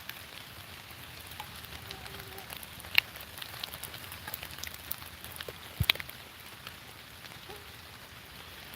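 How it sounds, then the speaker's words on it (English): Rain falls steadily in Kentucky woods, a faint, soft patter with scattered sharper drops and ticks throughout. "It's raining,"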